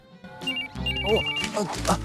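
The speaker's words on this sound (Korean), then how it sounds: "뻘쭘한 이때 걸려온 한 통의 전화." A telephone rings in a Japanese drama with a bright electronic ringtone, clear and close. Music and other sounds run beneath it.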